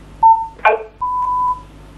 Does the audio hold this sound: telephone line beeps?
yes